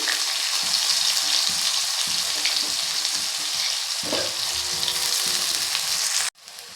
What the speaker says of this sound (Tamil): வெங்காயம் நல்லா பொன்னிறமாக வர வரைய வணக்கிக்கிறோம்